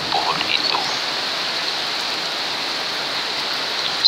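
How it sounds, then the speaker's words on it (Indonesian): Steady rain falls in an even, continuous hiss that stays constant from start to end, with no clear individual drops and no talking. "Suasana hujan."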